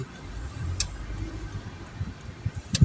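A car pulls away ahead on the road at Krościenko nad Dunajcem, on regional road DW969 with its cobbled centre lane, as a low, fairly faint engine rumble with a few knocks and bumps near the end.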